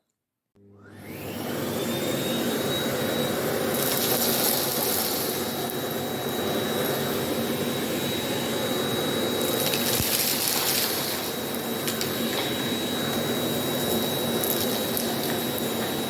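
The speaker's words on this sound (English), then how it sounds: "I'm going to show you how amazing this vacuum cleaner is and how easy it is going to suck this up." A Miele Blizzard CX1 bagless vacuum cleaner runs steadily and loud for the whole stretch, a constant motor roar with a high whine and brief bursts of rattling suction as it sucks up crumbs.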